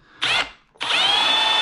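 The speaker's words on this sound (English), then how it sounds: "Drill a hole." A handheld power drill boring a hole in a wooden chair part: a short whining burst, a brief pause, then a longer steady high-pitched spin, loud and close.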